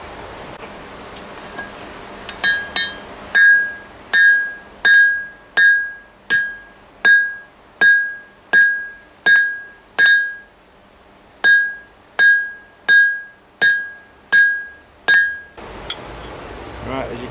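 Hammer blows ring out on the reins of a new pair of blacksmith tongs, about eighteen sharp metallic strikes in a steady rhythm, each with a bright ringing tone, close and loud.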